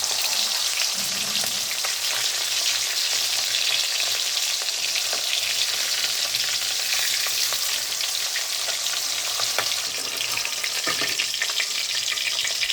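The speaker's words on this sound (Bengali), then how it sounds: "আমি মাঝারি আঁচে রেখে মাছটা ভাজছি।" Fish pieces frying in about one and a half cups of oil over medium heat, a loud, continuous dense sizzle and crackle that holds steady from start to finish with no voices.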